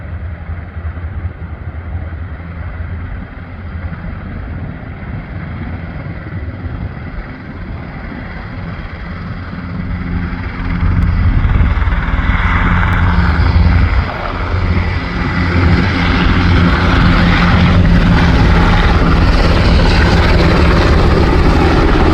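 Two Black Hawk helicopters depart Cherry Capital Airport in Traverse City, their engines and rotors forming a steady loud roar that swells sharply about halfway through and stays heavy to the end, with no voices.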